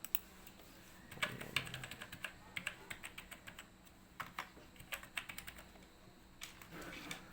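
Someone types an Aadhaar number on a computer keyboard at a banking service counter, with irregular bursts of close, crisp key clicks over several seconds and no talking.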